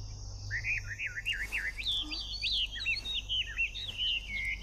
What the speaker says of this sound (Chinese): 这是京西的野鸽子，以灵巧清洁著称